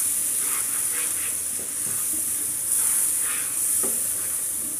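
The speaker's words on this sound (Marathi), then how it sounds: "साधारण मंद आचेवर एक 5 मिनिटं आपण याला सॉटे करून घेणार आहोत" Whole masoor sautéed with an onion and tomato gravy over low heat, dhaba style, giving a steady broad sizzle with a few soft stirring scrapes and one brief knock, close and continuous with no talk.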